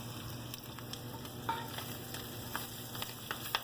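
Spinach sizzles and fries over heat, a soft steady crackle with faint pops and stirring, close but quiet and with no voices.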